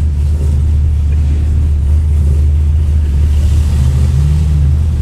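Ford XW GT doing a burnout at Summernats, a continuous heavy engine rumble held at high revs, loud and close with a constant low drone and no pauses.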